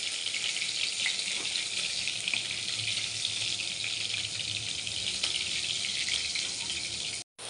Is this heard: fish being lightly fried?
yes